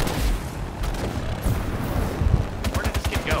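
Gunfire in the Halo 5 Warzone match on the Darkstar map, a dense rattling of rapid shots and booms, with sharp bursts near the end.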